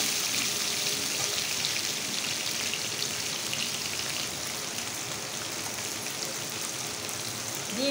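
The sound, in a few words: potatoes frying in a pan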